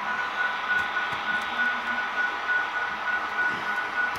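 A freight train shoved during switching moves with a steady, loud rolling rumble and a thin continuous metallic whine, with no talk.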